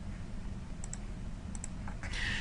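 A computer mouse clicks a few times, sharp and close, in paired light taps against steady low room hum, followed by a brief rustle of handling.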